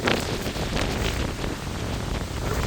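Strong wind gusts ahead of a thunderstorm in a valley roar steadily across the microphone, a dense, unbroken rush of air with no pauses and no voices.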